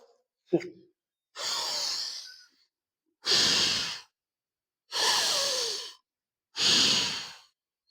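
Deep breathing after holding the yoga locust pose, with a short sharp intake followed by four long, loud, evenly spaced exhalations that sound like heavy sighs, close to the listener and alone.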